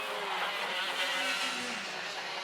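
Race cars of the DRS125 Daniel Ricciardo Series streaming past on the Hooton Park circuit: a faint, distant, continuous engine whine and rush that rises and falls slightly over a couple of seconds.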